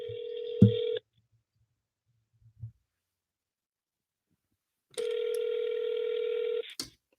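A phone line during a real estate cold-calling session gives a short dial sound, then two long, steady electronic ring tones separated by several seconds of silence, with small clicks around them. No one talks.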